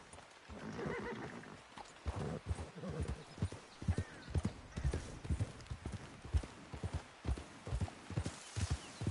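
A horse gallops in Red Dead Redemption 2, its hooves clip-clopping in a steady, fast rhythm that stays close and clear throughout, with occasional snorts and whinny-like sounds and no talk.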